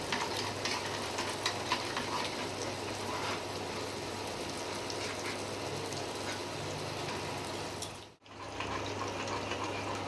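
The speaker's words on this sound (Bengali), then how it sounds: "এটা ভালো করে মিশিয়ে নিচ্ছি, মশলাটাকে একসঙ্গে মিশিয়ে দিচ্ছি" A spice mixture being stirred in a frying pan, with a steady sizzle and soft scraping that runs throughout, then cuts off abruptly near the end before resuming.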